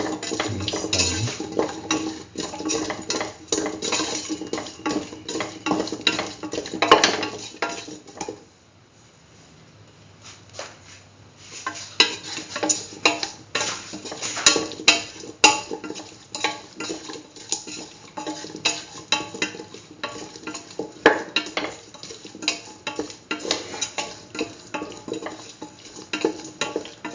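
Spoon scraping and clinking against a pot while stirring yam pieces in a split chickpea yam stew, steady repeated strokes with a brief pause, close and fairly loud, no talking.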